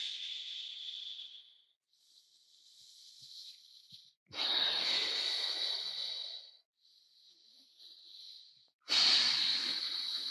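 Deep, deliberate breathing during a pre-workout warm-up, with long airy inhales and exhales alternating close to the microphone, two of them noticeably louder and fuller, separated by brief pauses.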